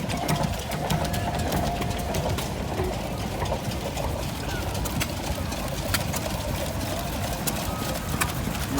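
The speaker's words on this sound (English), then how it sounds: "Nice small engine there like that. Little gas engine. Victoria vertical." Small Victoria vertical stationary gas engine running at a tractor show, a steady rapid mechanical clatter with regular ticking beats under a busy crowd murmur and occasional talk.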